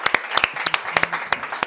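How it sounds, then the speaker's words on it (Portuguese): An audience gives a short round of applause for guest Ângela Silva, with distinct, sharp hand claps in an uneven rhythm, close and moderately loud. "Agora eu peço uma salva de palmas para esta ave rara, Ângela Silva"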